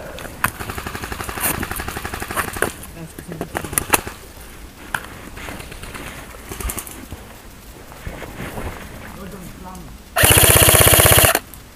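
Airsoft guns firing during a forest skirmish, a run of sharp, rapid shots and bursts at close to middle distance, mixed with people talking, then a loud sustained hiss near the end.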